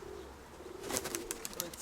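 A pigeon in a home loft bursts into flight with a quick flurry of wing flaps, faint and close by, among soft cooing from other birds.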